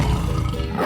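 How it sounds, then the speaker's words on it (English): A short, loud, gravelly tiger roar from a 3D animal slide game, a single dense rumble heard up close with no talking. "Tiger."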